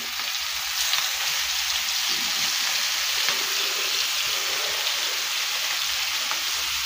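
Flour-dredged fish pieces frying in hot oil, a dense, continuous crackling sizzle like steady rain, close and even throughout.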